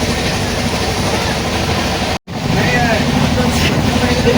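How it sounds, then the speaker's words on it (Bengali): Uttarbanga Express (13147) on the Sealdah to NJP run, heard as a steady loud rumble of the moving train, with a brief dropout midway before the continuous rolling noise resumes. "চলছে ট্রেনটা।"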